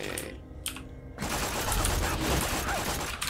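A grenade in the video game Borderlands 2 goes off in a sudden loud blast that gives way to a dense, crackling rumble, with a few sharp clicks just before it.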